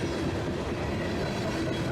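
A train rolls along the rails in steady, continuous noise, a loud unbroken rumble with a faint high squeal of wheels on a curve mixed in.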